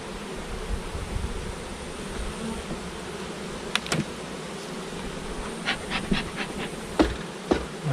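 Honeybees in the fall drone around an open hive while honey is being collected, a steady low buzzing hum throughout with a few sharp, brief clicks and taps near the microphone.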